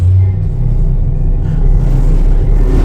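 A deep, steady rumble fills the launch of the Mark V Stellarator space elevator ride at Epcot. It stays loud and continuous, swelling slightly midway, with no voices over it.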